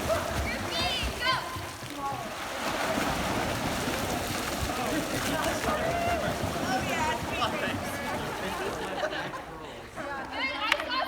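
Swimmers kicking on kickboards in a pool churn up steady, busy splashing that fills the space, with excited chatter and voices echoing over the continuous water noise.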